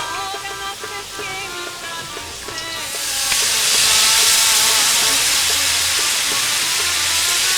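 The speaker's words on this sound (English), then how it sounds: "So now I'm going to go ahead and start adding ladles of our broth." Broth ladled into cooked flour in a pot for Macedonian kasha soup sets off a sudden loud, steady steaming hiss and sizzle that swells and holds after a quieter start with music.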